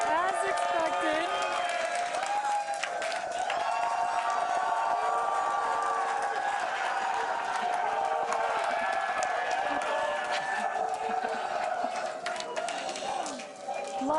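A crowd at a SpaceX Starship launch watch in Hawthorne, a dense, distant murmur of cheering and chatter that holds steady throughout, with a voice talking over it.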